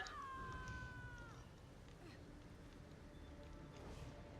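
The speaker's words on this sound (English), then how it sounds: "It's a kitty." A cat gives one drawn-out meow up close, its pitch sliding downward, followed by faint room noise.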